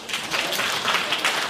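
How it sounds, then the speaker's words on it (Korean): Applause from a church congregation at a Sunday service in Suwon, a steady wash of clapping hands filling the short stretch without pause. "네, 박수 부탁합니다."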